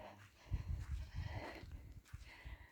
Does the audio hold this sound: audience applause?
no